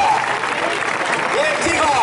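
Crowd applause at the final of a bull-leaping (recortes) contest in Vilafranca del Cid, a steady dense wash of clapping through the whole stretch with a voice talking over it.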